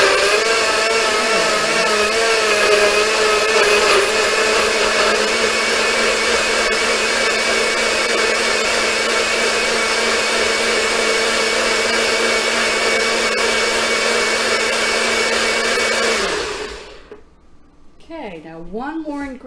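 Blender whirring steadily as it blends salad dressing ingredients, a loud, even motor drone that holds for about sixteen seconds, then stops abruptly, followed by faint handling sounds.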